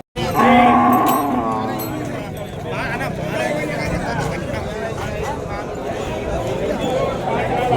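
Cattle at the Vaniyambadi cattle market in Tamil Nadu, with a loud, close moo standing out at the start, followed by continuous outdoor market noise and babble of many people talking.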